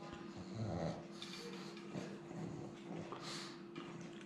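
A pug snorts and breathes noisily while being shaved. The snuffles are faint and close, coming in short irregular bursts with no talk over them.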